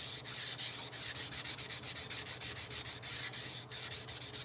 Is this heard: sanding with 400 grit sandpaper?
yes